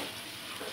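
Mushroom curry cooks in a pan with a soft, steady sizzle and simmer that holds evenly through a brief moment, with no voices.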